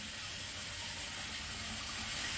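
Water gushes steadily from a tap opened all the way, a loud continuous hiss and rush with no pauses.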